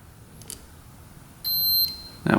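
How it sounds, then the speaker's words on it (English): A multimeter on continuity test gives one steady, clear beep of about half a second across a motorcycle fuse, then a second beep starts just as the sound ends, with a quiet room between them. "So we should hear a beep going across each fuse."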